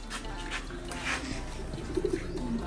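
Pigeons cooing up close, soft low throaty coos repeating over a steady background hum, with faint chirps and some low talk mixed in.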